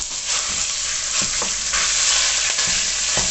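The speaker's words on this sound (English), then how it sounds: "we're going to fry the mince first" Mince sizzles steadily in hot oil, a continuous loud crackle with occasional stirring scrapes; no voices.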